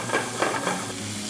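Axis deer loin sautéing in a pan gives a dense, continuous sizzle with a few soft stirring swells, close and steady over a brief stretch, no voices.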